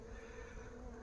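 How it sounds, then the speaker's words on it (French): Bees at the Santeny apiary give off a continuous faint buzz, a steady hum with no breaks. No one speaks over it. "Il y a des abeilles que sur une rangée là."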